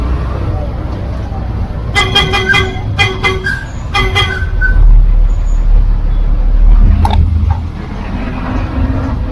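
An old double-clutch Leyland route bus pulling out of town, its engine a low steady rumble with several short horn toots in quick bursts, and voices talking over the ride.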